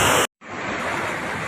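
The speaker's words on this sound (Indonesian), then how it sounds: "ini dampak daripada Sungai Kalilo ya, meluap sekali ya" Floodwater from the overflowing Kalibaru river rushes in a steady broadband roar, briefly cut out for a moment near the start, then returning loud and continuous with no voices.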